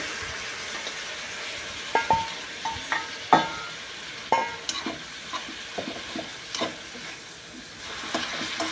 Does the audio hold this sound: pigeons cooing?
no